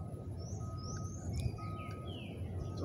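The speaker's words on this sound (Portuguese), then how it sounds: "São uns passarinhos cantando aqui" Small canaries in a cage sing and chirp with thin high whistles and short sliding notes, fairly faint over a low, steady background hum.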